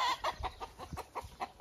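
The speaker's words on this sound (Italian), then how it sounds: "È un gallo." Rooster and hens outdoors giving a run of short, rhythmic clucks, about eight bursts in under two seconds, close and moderately loud with no talk.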